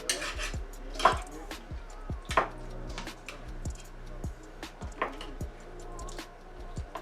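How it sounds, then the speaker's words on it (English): A spoon stirs fresh ingredients into a lasagna sauce of oregano, diced tomatoes, salt and pepper, making repeated close clinks and taps against the pot at an uneven, steady pace. "Now I'm using the fresh. And we're going to mix that in the sauce."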